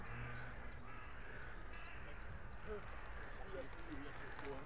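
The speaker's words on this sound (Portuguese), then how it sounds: "Olha quantos corvos estão sobrevoando aqui." Crows cawing as they fly over the grounds of Parc de Sceaux near Paris, several scattered caws of moderate loudness over a steady outdoor background hum, with a person talking through much of it.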